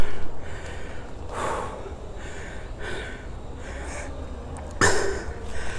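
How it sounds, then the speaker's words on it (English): Heavy, labored breaths after exertion at Laman Rimba Adventure Park, Johor, close to the microphone, several deep inhales and exhales with a sharp gasp near the end. "you're going to have to put up with me heavy breathing for a while"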